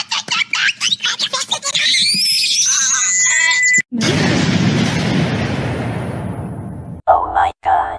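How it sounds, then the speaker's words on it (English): A cartoon-style voice lets out a rapid series of choppy shrieks that rise into a sustained high-pitched scream, cut off by a loud roaring explosion with a long rumbling tail, then a few abrupt glitchy bursts. "my scream was so powerful, it exploded the whole earth"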